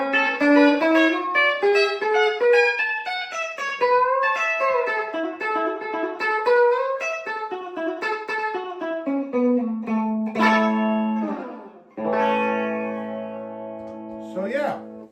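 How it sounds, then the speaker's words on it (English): Electric guitar notes ring out in steady melodic phrases, each echoing behind itself through a delay effect, with sustained chords and repeating trails filling the clip at a fairly loud, even level. "Delay."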